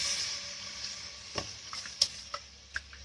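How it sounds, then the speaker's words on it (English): Milk stirred into a flour roux in a pan for white sauce, soft steady sizzling with a few sharp clicks and taps of the spoon against the pan, close and quiet. "Now we'll add in the milk."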